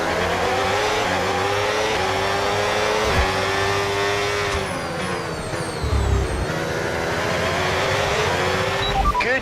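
Formula 1 cars in the F1 26 video game roar past at high revs, a steady loud engine whine shifting pitch as one car overtakes another, with a short tire squeal.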